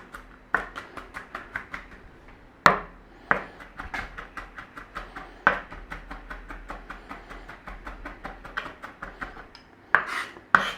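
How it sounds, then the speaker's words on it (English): A knife chops and minces squashed garlic on a board, with rapid, even close-up taps in bursts and a few heavier thumps between runs, no voices. "We want some minced garlic, so just give it a squashing and give it a chopping."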